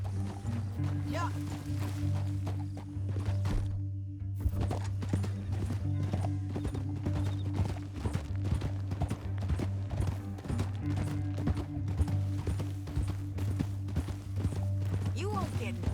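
Horse hooves clip-clopping in the video game Red Dead Redemption 2, a steady galloping rhythm over constant low engine-like rumble and game music, with characters talking over it.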